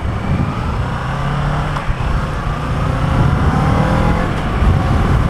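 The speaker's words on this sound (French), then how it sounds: "je suis surpris par le bruit à l'accélération, c'est-à-dire que ça fait pas un bruit très fort" A 2017 Kawasaki Z650 A2 motorcycle engine accelerates continuously, its steady, fairly loud drone rising slightly toward the end.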